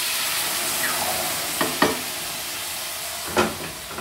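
Onions cook in a roux for alligator sauce piquante as vegetable juice goes in, giving a steady frying hiss broken by a few sharp stirring scrapes and bursts of sizzle.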